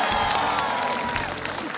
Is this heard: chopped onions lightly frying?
no